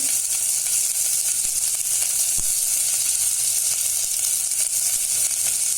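Cumin seeds and small chillies fry in about two tablespoons of hot oil, a steady close sizzle that holds evenly throughout with faint crackles and a brief stir partway.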